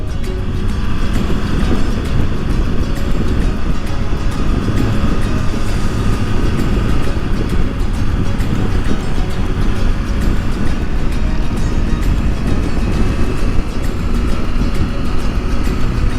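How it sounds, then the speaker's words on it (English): A motorcycle rolls through in second gear under engine braking on a Big Bend ride, a loud, steady low rumble with wind noise that holds unbroken throughout, with no talking. "This is a second gear roll through here, man. Engine braking."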